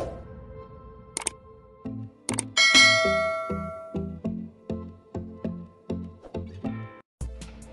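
A notification bell sound effect rings out as bright dings followed by a quick series of rhythmic chime tones. It is clean, close and isolated, with no talking.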